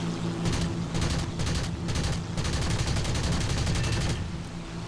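In War Thunder, a German fighter's nose-mounted cannons fire in rapid, loud bursts. Several sharp rattling volleys are broken by brief pauses, over a constant engine drone, with no talking.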